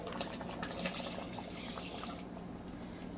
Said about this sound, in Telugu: వాటర్ పోద్దాం